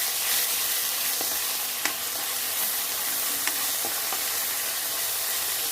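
Spices and garlic paste frying in a pan while being stirred, giving a soft continuous sizzle broken by a few sharp spoon clicks against the metal, close but moderately quiet, with no voices.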